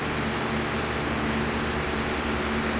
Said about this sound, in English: we got our vacuum pump